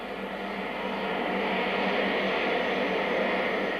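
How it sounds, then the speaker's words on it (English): A steady whining roar of an aeroplane's jet engine at low power while taxiing, constant and broadband, swelling slightly louder partway through. "The aeroplane taxis in for its second stop."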